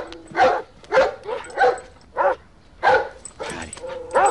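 Guard dogs bark close by in a run of sharp, loud barks with short gaps and some yips and whimpers in between, while a voice is heard in the background.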